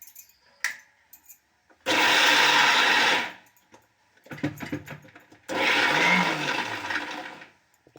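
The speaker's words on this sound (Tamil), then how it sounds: "இப்போது இதை மிக்சியில் நான் அரைச்சிடுறேன்" A kitchen mixer grinder grinds chana dal with salt into a thick batter in two loud, whirring bursts of about one to two seconds each, with clattering and handling noises between them.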